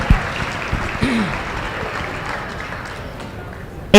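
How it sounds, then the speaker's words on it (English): A crowd at a Grayson County basketball rally applauds the team, a dense wash of clapping and cheering that slowly fades, with a voice speaking over it. "can we just give a round of applause for what an outstanding season it was for these boys?"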